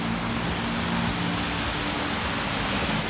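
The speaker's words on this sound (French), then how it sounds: "C'est une nouvelle journée pour nous où il pleut énormément." A heavy rain shower in Bangkok pours down steadily, a dense, loud, unbroken hiss of rain beating on surfaces, with no voices.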